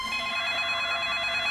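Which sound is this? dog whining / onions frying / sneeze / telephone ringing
telephone ringing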